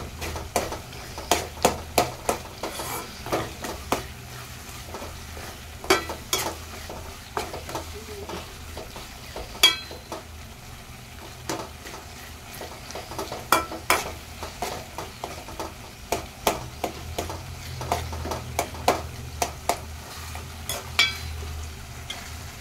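Potato, tomato and sprouted peas curry cooking in a pan, with a low steady simmering sizzle punctuated by frequent sharp scrapes and clinks of a spoon stirring against the pan.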